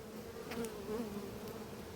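Honeybees drone around an apiary hive, a steady, fairly quiet buzz with a couple of brief closer passes of individual bees.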